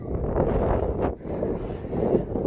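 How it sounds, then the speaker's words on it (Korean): Strong mountain wind roars and buffets the microphone during a rainy hike on Sobaeksan, loud and continuous with a brief lull in the middle. "안개바람이 아주 사정없이 몰아치네"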